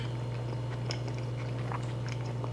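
Producer chewing a big bite of scallops with bacon: soft, close, irregular wet chews and small crunches over a steady low hum.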